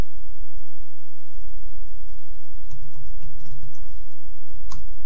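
Loud, close typing on a computer keyboard: irregular bursts of clicking keystrokes that thicken into a faster patter toward the end.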